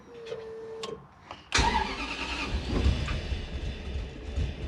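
A 1UZ V8 engine in a blue Land Cruiser cranks briefly after a few clanks, then catches with a sudden loud burst and keeps running roughly, uneven as if some cylinders are not firing.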